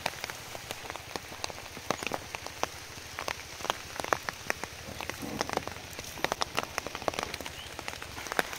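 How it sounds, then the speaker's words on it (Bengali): Sudden out-of-season rain falling outdoors where goats are tethered, a steady dense patter of drops striking surfaces with sharper individual taps throughout. "অসময়ে বৃষ্টি চলে আসছে।"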